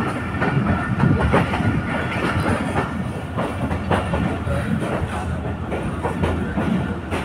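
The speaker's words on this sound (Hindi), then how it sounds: "हमारी ट्रेन डिपार्चर होती हुई समरसट्टा रेलवे स्टेशन से।" A train pulls out of Samastipur Junction railway station, a steady rumbling roll with rhythmic clicking of wheels over rail joints, heard from on board.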